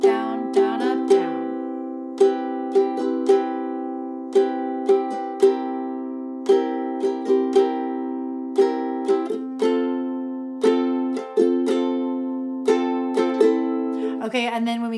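A ukulele plays a steady down-down-down-up-down strum on chords that each last four beats. Bright strokes repeat evenly for about fifteen seconds, with each chord ringing between strokes. Close and clear, with no talking.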